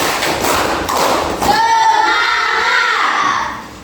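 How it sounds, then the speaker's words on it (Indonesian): A classroom group of children claps in unison, three sharp thumping beats in quick succession, followed by a loud burst of children's voices shouting together. "Tepuk 3 kali."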